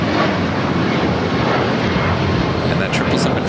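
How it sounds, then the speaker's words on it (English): A Boeing 777 freighter rolls down runway 25 left at LAX for takeoff, a loud, dense, continuous engine roar filling the short stretch, with a voice talking over it. "that 777 freighter now rolling down, 25 left"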